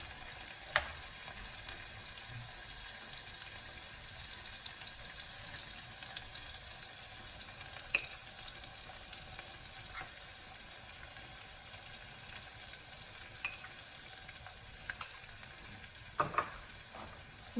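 Gram flour stirred and frying in a pan with ginger, garlic and onion, a steady soft sizzle with occasional scraping stir sounds, low and continuous.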